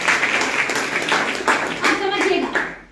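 An audience at a business talk claps, a loud run of fairly distinct hand claps in uneven rhythm lasting a few seconds, with voices mixed in and a sharp fall-off at the end.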